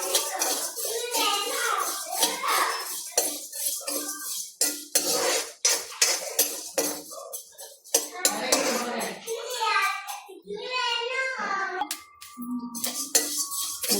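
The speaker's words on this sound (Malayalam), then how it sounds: "നമുക്കിനി ഇതൊന്ന് ഇളക്കി മൂപ്പിച്ചെടുക്കാം." Plantain and rice stirred and roasted in a pan, with repeated clanks and scrapes of a metal spoon against the pan. Brief speech-like sounds and faint voices come in now and then.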